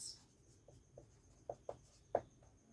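Pen scratching across paper in a run of short, faint strokes that grow a little firmer toward the end, close by and quiet, with no talking.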